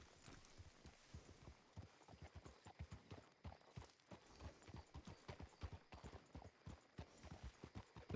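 Horse hooves clip-clop in a steady walking rhythm in the Red Dead Redemption 2 roleplay game, a continuous run of soft, even footfalls at moderate distance.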